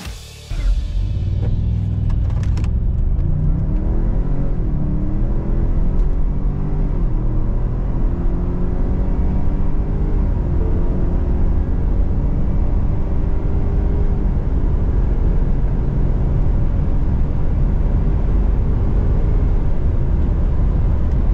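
A 2023 Ford Expedition Timberline driving at high speed, around 165, gives a loud, steady road and engine rumble with wind roar that holds constant throughout, without talk.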